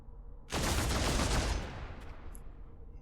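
A loud burst of rapid gunfire erupts in the video game Deathwatch: Tyranid Invasion, a dense volley lasting about a second before tailing off into a rumbling background.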